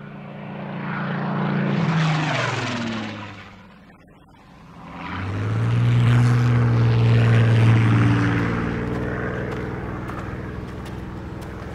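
Propeller aircraft in flight, a loud droning engine roar that swells, dips briefly to near quiet, then returns strong and steady with tonal engine hum, no voices.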